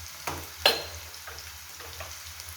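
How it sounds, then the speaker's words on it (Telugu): Onion pieces frying in a pan for a prawn and gongura curry, giving a soft steady sizzle close by, with a few sharp spatula clinks and stirs over it. "ఉల్లిపాయ ముక్కలు మనకు తొందరగా వేగాలంటే"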